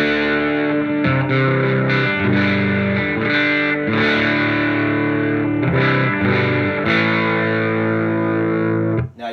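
Distorted electric guitar chords from a Gibson Les Paul played through a Marshall JTM 45 Plexi clone head on its normal channel, loud and sustained with rhythmic chord changes and no talking.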